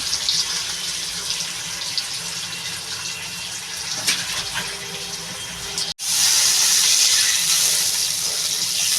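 Water pours steadily into a pan of fried potatoes for a fish curry with helencha greens, a continuous splashing rush that grows louder and brighter after a brief break midway, close up with no talking.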